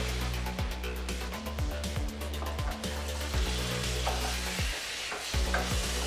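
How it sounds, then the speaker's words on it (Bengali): Olive pickle simmering in thick jaggery syrup is stirred in a pan, with repeated rhythmic scraping strokes over a constant close bubbling sizzle. "আবার নাড়াচাড়া করছি এখন এটা মিডিয়াম আছে অনেকক্ষণ ধরে রান্না করতে হবে গুড়ের শিরাটা একদম শুকিয়ে না যাওয়া পর্যন্ত"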